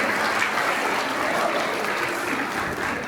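Audience applause for a group of young performers at an evening event in Arue, a thick, even roar of many hands clapping at steady loudness throughout.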